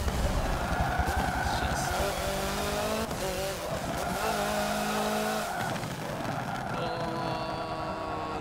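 Gymkhana rally car in Forza Motorsport 7 revving hard and sliding, with engine tone rising and falling through gear shifts and tires squealing in long skids, loud and close while a player talks over it.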